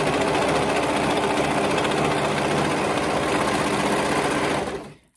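A sewing machine runs steadily for about five seconds, stitching together the pinned sides of fabric for a summer two-piece set, with a dense, continuous motor hum that cuts off abruptly at the end.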